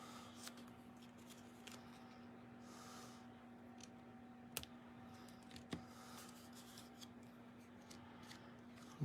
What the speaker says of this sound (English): bring in my paper snips and just help it along right there.